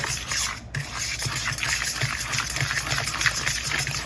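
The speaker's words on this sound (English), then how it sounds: "Then I'm going to throw my water in." Water is poured into chocolate banana muffin batter in a mixing bowl, giving a continuous splashing, gushing stream for about four seconds, fairly close, with no talking.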